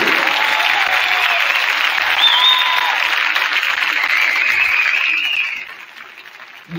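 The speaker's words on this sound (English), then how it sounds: "Let's give him a round of applause for the service." A gym crowd at a high school varsity basketball game applauds a retiring official, steady dense clapping that fills the hall and then thins out and fades near the end.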